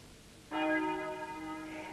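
A single clock bell strikes one of the New Year's Eve midnight chimes at about the half-second mark. The ringing tone is clear and resonant, decays slowly and is heard alone without speech.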